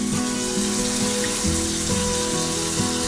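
Water runs steadily from a tap in an RV during sanitizing, a close, continuous splashing patter lasting throughout with no talking.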